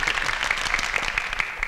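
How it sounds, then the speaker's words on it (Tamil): An audience claps steadily at a sixtieth-birthday celebration ceremony. The dense, even applause continues for the whole stretch without pause, fairly loud and close. "ஏண்டா என் பேருக்கு மட்டும் தானே கைத்தட்ட சொன்னேன்?"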